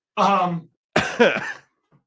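A short voiced groan, then a harsh, rough burst of coughing close to the microphone, followed by quiet.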